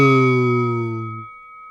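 A single bell strike in a fight-podcast sound effect rings out bright and loud, then decays over about a second and leaves a thin sustained tone.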